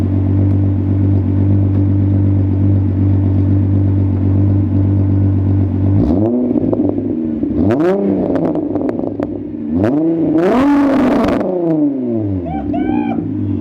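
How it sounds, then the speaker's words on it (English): A car engine idles with a steady low hum, then revs hard in a series of loud, rising and falling bursts, close and dominating. "We need some revs, hang on."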